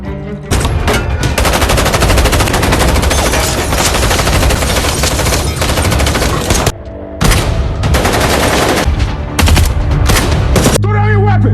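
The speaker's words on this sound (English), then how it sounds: "We start in the middle of a shootout between the Drug Enforcement Agency and the drug cartel" Intense gunfire erupts in a movie shootout between DEA agents and a drug cartel at a drug hideout, loud sustained bursts of automatic fire with brief pauses and scattered single shots, dense and overwhelming.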